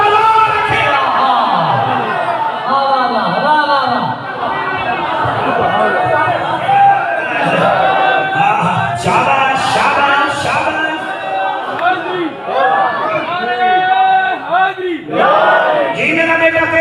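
A large crowd at a religious sermon shouts chanted slogans in rhythmic, overlapping waves, loud and close and continuous throughout.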